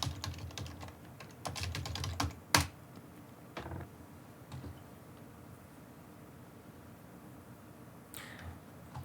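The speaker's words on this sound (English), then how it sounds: "If you type time and then you type in a command, it will tell you how long it took to execute that command." Quick bursts of clicks on a computer keyboard as a command is typed, near and fairly quiet, followed by a few scattered single keystrokes and a pause near the end.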